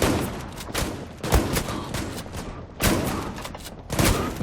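Shotgun blasts in the online shooter Zula, four loud, close booming shots spaced roughly a second apart, each with a short decaying tail and no voices between them.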